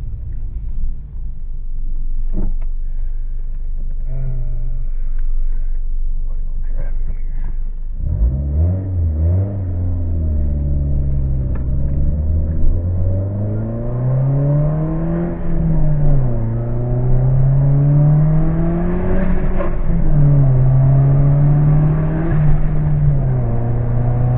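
Turbocharged Scion tC car revving hard and accelerating through gear shifts, a loud close engine whine climbing and dropping in pitch with each shift, building steadily over a quieter idling start.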